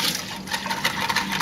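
Rinse water pours and splashes out of a black-and-white film developing tank, a steady broadband watery rush held close for a moment.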